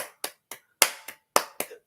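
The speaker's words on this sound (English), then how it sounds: "So when we clap" Sharp hand claps, about seven separate strikes in an uneven rhythm, loud and close with no talking between them.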